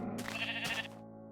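A sheep in the beta version of Minecraft gives a single short, wavering bleat, close and clear over a steady low background tone from the game.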